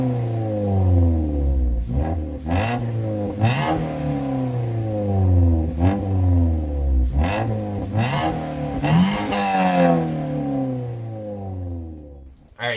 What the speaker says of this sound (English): Obviously the engine's warming up